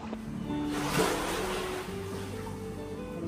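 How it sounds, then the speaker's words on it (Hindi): Waves wash along the shore by a Japanese fishing village where boats sit raised on wooden supports, a steady broad surf and sloshing water filling the whole moment with no voices. "ये पूरा इधर समुंदर है"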